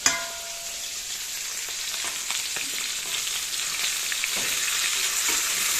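Fish heads fry in hot oil, a continuous close crackling sizzle with scattered pops and faint stirring scrapes throughout, no voices.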